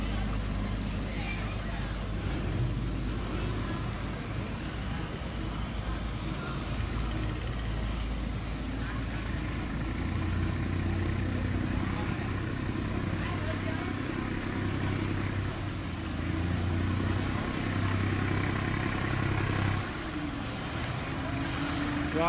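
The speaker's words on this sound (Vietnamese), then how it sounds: "Rồi có một chiếc ghe gỗ ghe nổi nha các bạn. Ghe này để ra chở cát nha các bạn." Steady low engine drone of a wooden boat used for carrying sand, droning continuously on the water throughout with a broad wash of water and wind noise over it.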